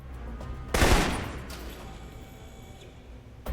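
A single sharp, loud rifle shot from Alpha Protocol's shooting training cracks out and rings into a fading echo, followed by a faint click and the start of another report at the very end.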